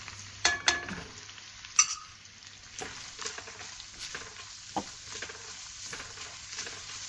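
Chopped onions and four green chillies sizzle in a hot pan as they are stirred, with sharp scraping strokes of the spoon near the start, then a softer steady frying crackle with occasional clinks.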